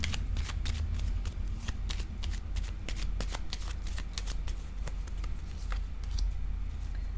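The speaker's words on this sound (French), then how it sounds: "Je vais déposer une carte sur le cadeau." Tarot-style cards being handled and laid down during a reading, a quick close run of crisp slaps and flicks over a low background hum, with no speech.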